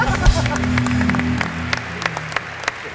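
Studio audience applause on a Turkish TV talk show, a burst of dense clapping that tails off into scattered claps over a few seconds, with talk mixed in at the start.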